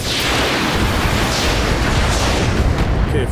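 Weapons firing and impacts in the tactical shooter game Roguepoint: a loud, dense barrage of booming blasts and crackling bursts rolling together for a few seconds.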